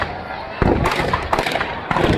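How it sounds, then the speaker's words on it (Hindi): Fireworks burst over a burning Ravana effigy at a Dussehra-style celebration, with several loud cracking explosions in quick succession and a voice talking faintly in the background. "आतिशबाजी का नजारा भी"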